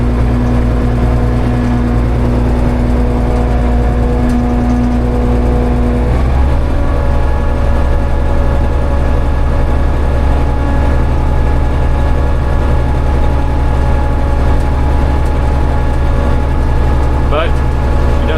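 A Ford 302 V8 car engine runs loudly and steadily, a deep constant drone close by, with a slight shift in tone partway through.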